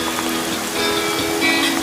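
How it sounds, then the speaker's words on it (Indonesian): Heavy rain falls on tents at a mountain campsite as a dense, steady hiss with scattered close patters and drips, fairly loud and without talking. "Wow, hujan guys."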